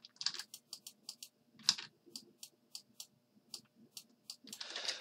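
Soft, quiet clicks of a computer keyboard come in a steady series of individual keystrokes, close by and alone, with a brief flurry near the end.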